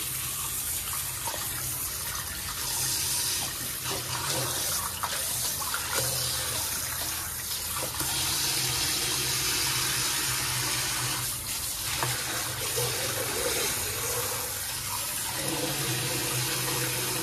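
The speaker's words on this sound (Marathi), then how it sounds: "आपण सुरमई पहिली धुवून घेतोय" Tap water runs steadily into a sink while surmai (kingfish) pieces are washed before frying: a constant close splashing rush with faint handling noises and no speech.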